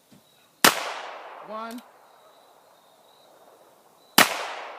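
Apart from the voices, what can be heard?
Ruger Security 6 revolver firing .22 long rifle rounds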